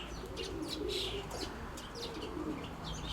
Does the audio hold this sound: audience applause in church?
no